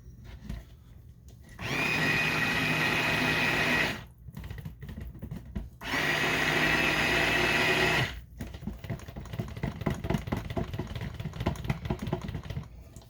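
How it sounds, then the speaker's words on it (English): A stick blender mixing soap whirs in two loud bursts of a few seconds each, with quieter clattering and handling sounds between and after. "I'm going to clean my stick blender off a little bit."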